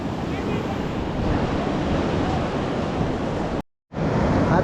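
Sea waves wash continuously onto a Goa beach, a loud, steady roar of surf mixed with wind buffeting the microphone, cutting out briefly near the end before resuming.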